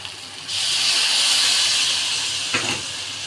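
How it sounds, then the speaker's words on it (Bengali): Water poured into a hot pan of frying taro (arbi) masala gives a loud, steady steam hiss and sizzle that bursts up suddenly and holds, with a short clatter near the end. "এখন এর মধ্যে দিয়ে দেবো আমি সামান্য করে একটু জল"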